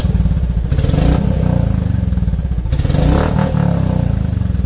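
Royal Enfield Classic 350 Reborn exhaust with a short Punjab muffler and catalytic converter, thumping loudly and close in a steady idle beat with two throttle blips that bring crackling pops.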